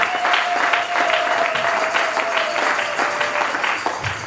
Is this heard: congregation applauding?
yes